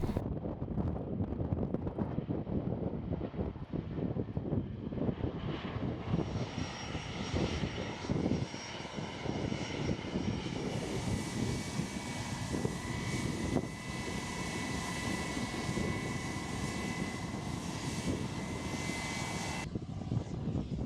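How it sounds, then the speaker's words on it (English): A Challenger 300 business jet arrives and lands at Saint Helena Airport, its engine roar swelling into a steady high whine over about twenty seconds, heard from outdoors with gusty wind buffeting the microphone. "Challenger 300 business jet arrived on the island and was the first to be privately chartered, solely to bring tourists"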